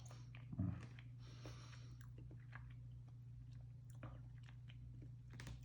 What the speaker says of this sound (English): small bites on the peanut butter cup